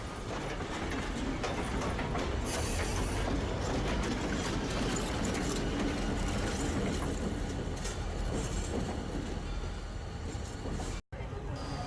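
A Reading and Northern High Bridge train hauled by two red GP39RN diesel locomotives rolls past close by, a loud, steady rumble of engines and wheels lasting throughout, with a brief dropout near the end.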